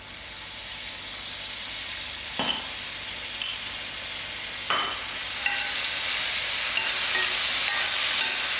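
Ginger garlic sizzles with fried onions in a pan for Gobi Matar, a continuous close hiss broken by a couple of sharp stirring scrapes.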